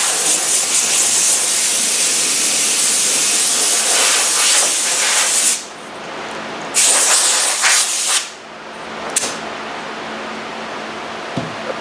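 Compressed air blows lacquer dust off painted cabinet doors in a spray room, a loud continuous hiss that cuts out briefly twice and resumes in short bursts.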